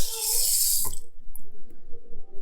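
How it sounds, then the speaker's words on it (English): Cold tap water gushes loudly into a sink over a skull being cleaned for about a second, then cuts off, leaving faint drips and quiet handling noises. "It's still kind of warm, so I just hit it with some cold water."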